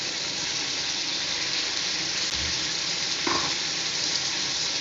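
Beans and vegetables for semiya sauté in a pan with a loud, continuous rain-like sizzle, a brief stirring knock near the end and no talking.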